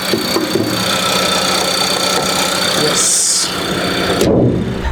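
A Volkswagen Virtus GT Plus Sport engine runs steadily up close with the bonnet open, a loud continuous rumble with a brief higher whine partway through.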